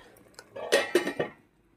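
A metal lid set onto a cooking pot in a home kitchen, two or three short clanks and rattles close by, then quiet.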